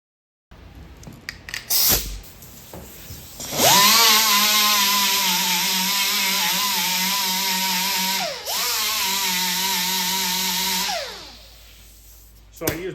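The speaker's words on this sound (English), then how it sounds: "So I used my little grinder" A small handheld grinder cuts a divot into an arcade cabinet during restoration. It spins up to a loud, steady whine that dips briefly midway, carries on for several seconds, then winds down and stops.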